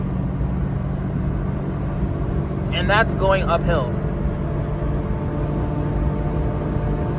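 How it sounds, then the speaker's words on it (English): A Daihatsu Atrai kei van's small engine drones at wide open throttle going uphill, a steady strained hum with cabin rumble, while someone speaks briefly in the middle. "at this point, you could kind of hear the car screaming"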